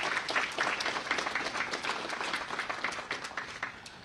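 Steady, fairly distant applause from a press briefing audience saluting employers in the District of Columbia, a continuous wash of many hands clapping at even strength throughout.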